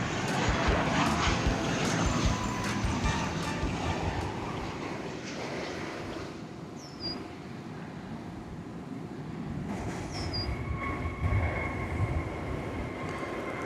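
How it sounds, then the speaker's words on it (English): An American Airlines Boeing 737-800 arriving from Puerto Vallarta at DFW Airport gives a continuous broadband jet rumble overhead, with faint bird chirps above it. "Desde Puerto Vallarta comes American Flight 353, a 737-800."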